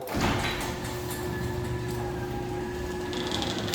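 A motorized door on a spacious two-car house garage runs steadily with a droning motor hum and rattling mechanism throughout, fairly loud and close, with no talking.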